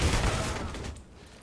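A burst of gunfire from a Counter-Strike match on the Cache map booms loudly at the start, then tails off into fainter rumbling echoes.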